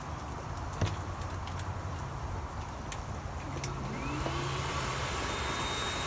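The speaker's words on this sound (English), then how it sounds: "I'm going to put my dryer on low and then slowly turn it up." A dog blow dryer hums with a steady whoosh at moderate volume, started on low and turned up so it grows slightly louder partway through, with a few faint clicks.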